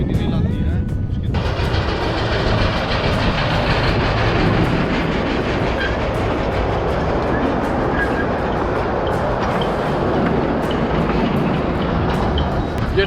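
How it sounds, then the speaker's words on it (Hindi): A mini rail train in Mumbai runs along its track with a loud, continuous rumble and faint clatter close by, steady throughout the clip. "ये ट्रेन है जिसकी 10 रुपये की टिकट है आने और जाने की दोनों तरफ की"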